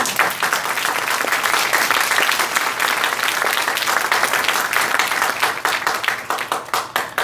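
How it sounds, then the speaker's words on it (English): Audience at a recovery awards symposium clapping hands in sustained, dense applause, loud and steady across the whole stretch with no voices over it. "Clap your hands."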